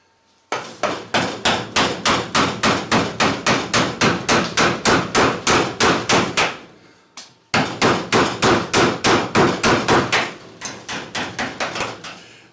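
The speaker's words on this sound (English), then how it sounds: "I'm going to use a deeper gouge, something like a 10 or 11 or more U-shaped gouge, to take wood away from here." A mallet strikes a deep U-shaped gouge carving wood in rapid, steady repeated knocks, about three per second, close and loud, pausing briefly midway before the rhythmic blows resume and soften toward the end.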